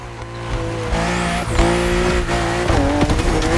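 BMW M2 and M4 race cars in The Crew Motorfest on a narrow, winding track, loud engines rising and falling in pitch through gear changes, with tire squeal and a passing car.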